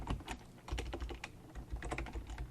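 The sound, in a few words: typing Java code on a computer keyboard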